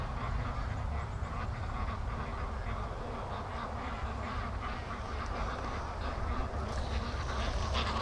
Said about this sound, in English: I hear a whole bunch of ducks coming behind me